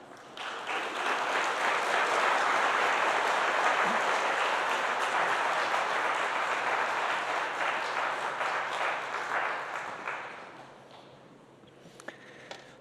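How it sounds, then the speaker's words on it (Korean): A church congregation applauds steadily to welcome a visiting preacher at an ordination service, a dense sustained clapping that swells and holds for about ten seconds before thinning to a few scattered claps. "나오실 때 박수로 환영하겠습니다."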